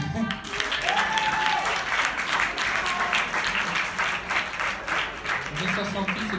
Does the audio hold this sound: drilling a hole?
no